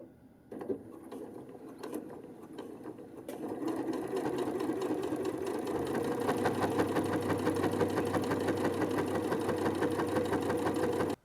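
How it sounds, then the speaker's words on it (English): A sewing machine stitches fabric with an edge-joining presser foot. A few soft clicks as the fabric is positioned give way to a steady, fast mechanical whirring and needle clatter that runs continuously, close up. "Now we can go use our presser foot."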